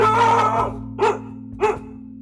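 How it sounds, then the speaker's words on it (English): A dog barks three times, first a longer rough burst, then two short sharp barks spaced apart, close and loud over a steady electrical hum. "man, that's my dog"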